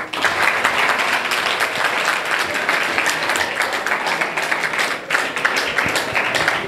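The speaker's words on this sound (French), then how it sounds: "donc il mérite encore vos applaudissements, Chérif Fall." An audience at a football tournament draw ceremony applauds with loud, sustained clapping that carries on steadily for several seconds.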